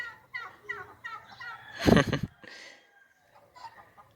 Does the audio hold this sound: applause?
no